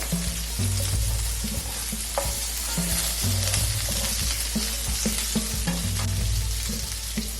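Small onions and capsicum hit a tablespoon of hot oil on a tawa used earlier for frying fish, sizzling loudly and continuously while a spatula repeatedly scrapes and stirs in rhythmic strokes.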